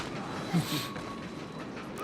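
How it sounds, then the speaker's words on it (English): A train rolls past on a fighting stage in Mortal Kombat on the PlayStation Vita, a steady rumbling rush with a faint clatter of wheels, at moderate loudness and with no clear foreground voice. "You can see the train went by"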